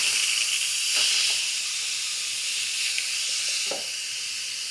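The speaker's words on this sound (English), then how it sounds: "After the cooking time is done and we've allowed the pressure to release naturally for 5 minutes, it's time to let it all vent out." An Instant Pot pressure cooker vents steam after cooking ribs, a loud, continuous close hiss that holds steady with slight surges for a few seconds.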